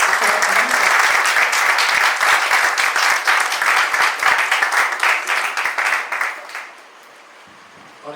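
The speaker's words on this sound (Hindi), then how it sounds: "थोड़ी सी जोरदार तालियां हो गई बस।" Steady, vigorous applause from a theatre audience at a drama festival award ceremony, many hands clapping loudly for about six seconds before tapering off into near silence.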